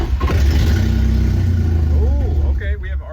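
Nissan 350Z engine in a garage cranking and catching, running roughly and loudly with a steady low drone throughout, briefly revving near the end as it sputters; voices talk over it.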